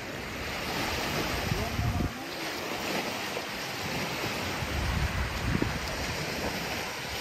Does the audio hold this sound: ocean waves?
yes